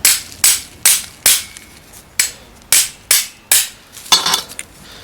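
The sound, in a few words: hammer driving out a door roller pin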